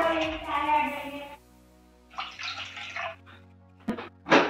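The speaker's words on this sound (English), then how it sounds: "Add in a 2 glasses water in a pot." Two glasses of water are poured into a pot for making tea, a short splashing pour between stretches of a voice talking, with a few clinks near the end.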